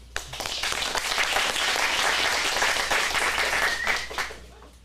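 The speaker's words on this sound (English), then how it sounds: "Give you a round of applause." Audience applause at a teen acting studio script showcase in Phoenix, a steady, dense wash of clapping that swells quickly, holds for several seconds, then tapers off near the end.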